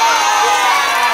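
Crowd cheering and applauding for a magician at a children's Halloween show, a loud, dense burst of shouts and clapping lasting about a second.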